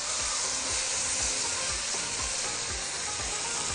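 Onions caramelizing in a pot for a vegetable and meat turli dish give off a steady, dense sizzle and frying hiss with faint stirring scrapes, constant and fairly close, with no talking.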